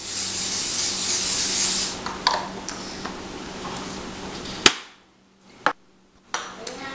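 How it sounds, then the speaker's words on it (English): A hissing cooking spray on a metal baking pan for a couple of seconds, then rubbing and a few sharp taps and knocks on the pan, close by. "you want to spray it a little bit so that your cookies aren't sticking to the bottom"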